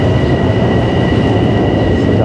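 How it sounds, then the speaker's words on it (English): A Long Island Railroad train passes in the Forest Hills area of Queens. It makes a loud, continuous broadband rumble and roar with a faint high whine running through it, close by and steady throughout. "And this is where the Long Island Railroad passes by."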